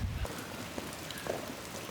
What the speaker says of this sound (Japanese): すごいですね、雨風が。